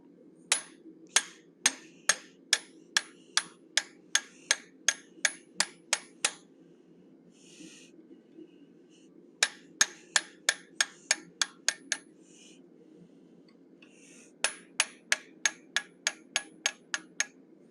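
Repeated hammer blows on a round eye punch set in the socket of a forged animal head, three bursts of steady, evenly spaced ringing metallic strikes, close and loud, with short pauses between.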